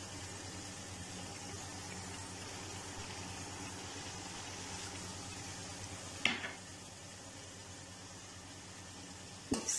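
Yogurt being stirred into a pan of sizzling Kashmiri chicken masala: a steady, even frying hiss throughout, with a couple of sharp spoon-on-pot scrapes and clinks near the end, no voices.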